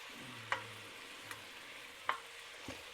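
Beef chunks for bœuf bourguignon browning in a cast-iron cocotte, a quiet low sizzle broken by four sharp clinks and scrapes of a utensil against the pot.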